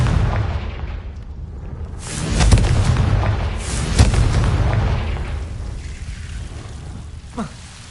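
Confringo fire spell explosions in the video game Hogwarts Legacy: a few deep booming blasts around two to four seconds in, with a rumbling tail and a smaller pop near the end.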